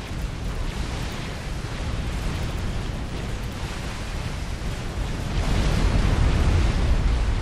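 A chain of generators explodes in the Supreme Commander Forged Alliance Cybran campaign, producing a continuous, loud roaring rumble of blasts that swells even heavier toward the end.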